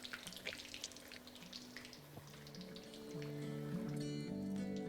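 Pointed gourd (potol) pieces frying in hot oil over a high flame, giving a steady bubbling sizzle that grows slightly louder toward the end, with no talking.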